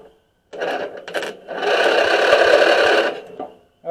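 A Murray-built Stanley GT lawn tractor engine cranks over with the clutch pedal clamped down, a steady churning turnover running for about a second and a half after a few short bursts, close and loud, with no talking.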